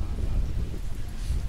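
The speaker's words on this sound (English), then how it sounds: "It's a bit windy" Wind buffets the microphone on a wooden rooftop deck at a Penghu coral reef seaside spot, producing a continuous low rumbling gusty roar that dominates the short moment.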